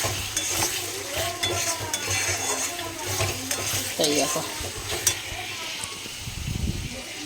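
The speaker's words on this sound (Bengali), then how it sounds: "এবার মাংসগুলো দেবো কষানোর জন্য" Spiced masala sizzles and frying sounds come from a pan as meat is stirred in, with scraping of a utensil and someone talking now and then over the steady cooking noise.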